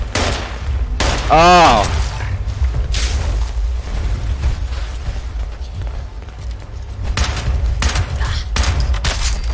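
Gunfire in the online game Fallout 76, sharp bursts of shots and booming hits scattered through a busy in-game scene, with a brief exclamation from a player over the action.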